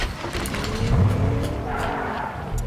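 A car in the Fortnite video game drives with a steady engine drone and tire skids rising and falling over a few seconds, loud and close.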